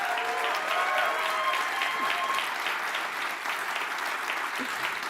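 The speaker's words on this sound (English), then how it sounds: "Can we give them a big round of applause?" A crowd at the McLaren F1 team's 2023 season launch event gives a big round of applause, continuous and full-bodied, easing slightly in the second half.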